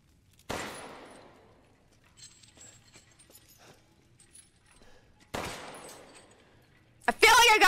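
Two sharp gunshots ring out several seconds apart in the video game Resident Evil Village, each a loud close crack with a decaying tail, separated by quieter in-game clatter, ending in a loud burst of noise.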